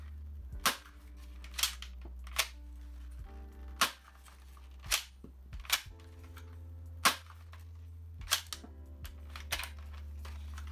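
A JF-19 shell-ejecting spring airsoft sniper rifle fires a string of sharp, loud cracks, each a second or so apart, with softer bolt clicks and clatter between shots over a constant low hum.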